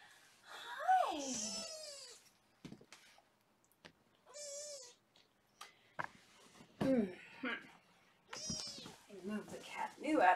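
Foster kittens meow in repeated high, wavering cries, several close bursts scattered across the stretch, with a person talking softly between and over them.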